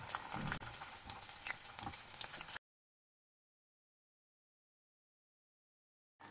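Cauliflower pieces shallow-fry in a little oil in a pan, giving a close crackling sizzle for a couple of seconds before the sound cuts to silence, then briefly resumes.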